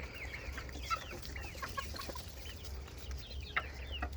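Chickens cluck softly and intermittently over a low rumbling background, several birds close by, no talking.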